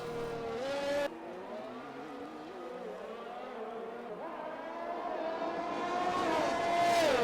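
Race cars including a Williams circle the Belgian Grand Prix track in a racing game, engines whining and shifting pitch as they pass, with a steady loud drone throughout.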